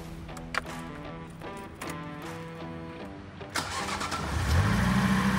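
Engine of a Ford Ka car cranks and catches, starting to a rising idle after a few seconds of background sound, ending in a steady running rumble.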